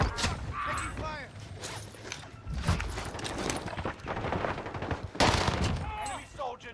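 Type 100 submachine gun fire in a video game, sharp bursts recurring among other battle noise, with voices talking over parts of it.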